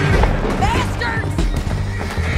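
Horses whinny amid the clatter of hooves in a chaotic Red Dead Redemption 2 chase, the neighs cutting briefly through dense game noise and a speaking voice.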